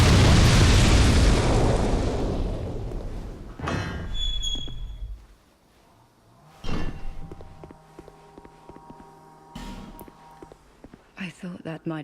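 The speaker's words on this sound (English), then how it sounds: "Pro tip, don't hit those barrels, because they do in fact explode." An exploding barrel in Dark Souls 2 bursts with a loud boom that decays into a rumble, followed by heavy thuds and footsteps, while a voice talks over parts of it.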